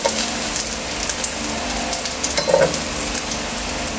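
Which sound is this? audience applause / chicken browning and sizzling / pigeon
chicken browning and sizzling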